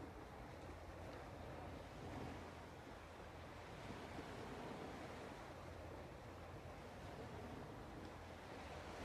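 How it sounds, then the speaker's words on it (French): Ocean waves roll in at the seashore, a soft, continuous surf wash with gentle swells and a touch of wind noise, heard from a distance with nobody speaking. "nous sommes au bord de la mer. Je nous invite à nous brancher à ce mouvement naturel des vagues"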